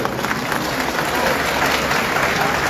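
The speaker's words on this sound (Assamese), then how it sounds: "আপোনালোকৰ যদি সমৰ্থন আছে, হাত চাপৰি দিব" A crowd clapping in support at a public citizens' meeting, continuous loud applause from many people filling the space evenly without a break.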